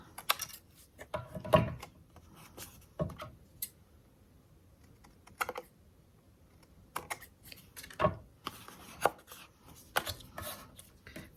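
Paper is trimmed away from a thin card strip in short, crisp snips and clicks, spaced unevenly with quiet gaps between them, close and fairly faint.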